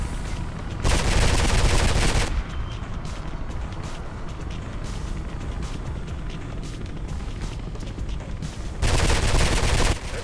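Gunfire rattles in the video game Mirror's Edge: dense, loud automatic bursts in two heavy stretches at the start and end, with a continuous rumbling, crackling din between them.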